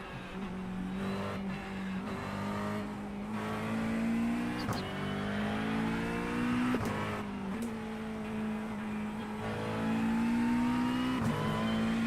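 A McLaren race car in a racing game at Spa howls through repeated gear shifts, engine pitch climbing and dropping sharply with each change, steady and fairly close, with no talk over it.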